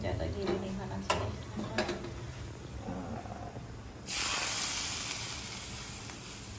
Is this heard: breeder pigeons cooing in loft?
no